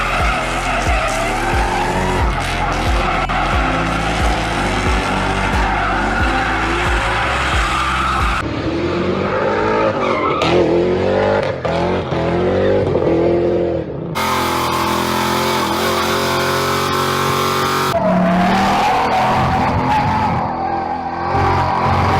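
A New Edge Ford Mustang drifting, with loud sustained tire squeal and a revving engine across several spliced runs, and no talk.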